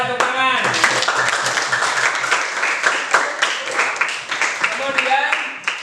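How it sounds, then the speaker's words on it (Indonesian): Children clapping and cheering in a classroom during a lesson on Asmaul Husna, a dense continuous patter of small hands that stays steady for several seconds, with young voices calling out over it. "tepuk tangan"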